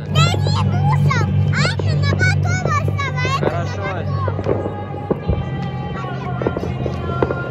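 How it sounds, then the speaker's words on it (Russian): New Year fireworks over Sochi before a huge outdoor crowd, with scattered pops and bangs through the clip as children and adults talk and call out close by. "Небо в салюте."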